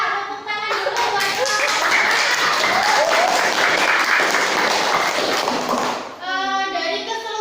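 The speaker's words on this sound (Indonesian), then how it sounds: "tepuk tangan dulu" Audience applause at a teaching session, a dense wash of clapping lasting several seconds, with brief voices before and after it.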